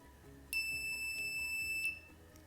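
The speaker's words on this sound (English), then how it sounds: "the buzzer is making a loud noise, which means it's working" A homemade electronic doorbell buzzer sounds a steady high-pitched tone for over a second with a brief dip partway through, heard clearly over a low background hum.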